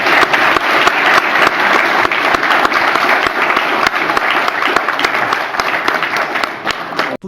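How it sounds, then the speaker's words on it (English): Loud, close applause from an audience after a formal address, with sharp individual claps over a dense, steady roar that holds evenly before cutting off abruptly. "please join me in a round of applause."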